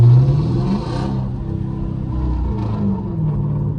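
A Dodge Charger R/T with a manual mode and bald, easily spinning tires revs its engine, a loud close rumble that rises briefly at the start then settles into a steady growl.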